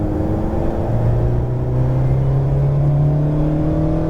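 Alpine sports car pulling hard under acceleration, the engine note climbing steadily in pitch as revs build, heard from inside the car at a moderate, continuous level with no speech.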